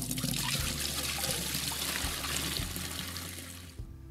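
Water trickles and splashes steadily from a hose while filling a saltwater aquarium in the game Aquarist, a continuous broadband wash with low bubbling underneath, easing off near the end.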